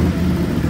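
A 2020 Can-Am XMR 850 ATV, recovered after being submerged, runs with a steady, close, low rumbling drone and no misfiring.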